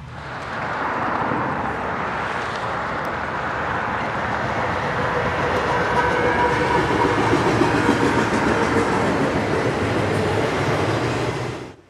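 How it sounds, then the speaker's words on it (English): A CSX eastbound intermodal freight train led by a GE GEVO locomotive rolls past on the Chicago line in upstate New York, a loud, close, continuous rumble with rhythmic clickety-clack of wheels over rail joints, fading abruptly at the end. "the first train of the day is eastbound intermodal train I-158 with a GEVO leading"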